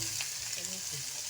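Chicken pieces with carrot and chayote drop into a hot pan for pancit bihon, giving a steady close sizzle and frying crackle that runs through the whole short moment with no talk.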